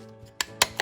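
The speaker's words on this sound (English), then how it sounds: "then you're going to take your hole punch and you're going to do 4" A hole punch bites through a paper plate for a craft: three sharp close clicks in quick succession, with no talk.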